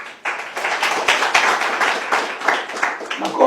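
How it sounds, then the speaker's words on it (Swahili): A classroom group in a school comedy sketch claps together in a brisk, ragged burst of applause that lasts throughout, loud and close. "Rupigie makofi."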